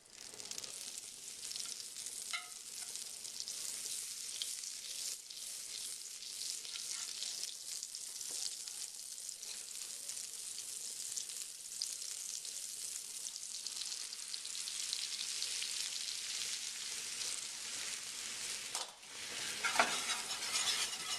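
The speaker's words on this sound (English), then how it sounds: "Now that I've melted the butter, I've added some flour to it" Butter and flour roux cooks in a pot for split pea soup, a soft continuous sizzle under repeated scraping strokes of a utensil, fairly quiet and close.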